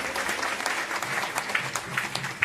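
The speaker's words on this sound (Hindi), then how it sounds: "आप लोग जोरदार तालियों से उनका स्वागत करें।" Audience at a political party convention applauding to welcome a guest, a dense steady patter of many hands clapping together, fairly close and continuous throughout, with a faint murmur of crowd underneath.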